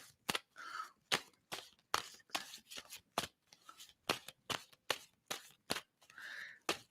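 Playing cards being shuffled in a rapid series of crisp, snapping riffles and slaps, close and fairly quiet, with brief pauses between bursts and no talking.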